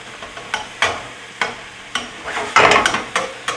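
Nearly cooked ground taco meat is stirred and scraped around a frying pan, giving a string of spaced scraping strokes over a light, steady sizzle, close by with no talking.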